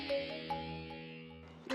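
A phone rings with a call from Yash, a melodic electronic ringtone of sustained tonal notes playing softly and steadily, with a louder burst at the very end.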